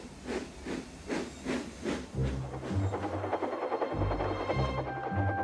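A steam engine chuffs in an even run of rhythmic puffs, then shifts to a sustained hiss over a low mechanical rumble, close and alone with no talk.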